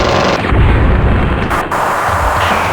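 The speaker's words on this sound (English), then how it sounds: "so do a little bit of strafing here." Strafing gunfire in the flight combat game Fighters Anthology, a loud, dense, rumbling burst of rapid cannon fire and explosions that continues without a break, close and heavy, with no talking.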